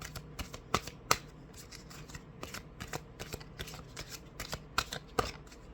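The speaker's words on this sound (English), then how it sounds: "Now I'll pull an oracle card for you" Oracle cards being shuffled by hand, a quiet series of crisp riffling snaps and taps in irregular rhythm, close and alone with no talking.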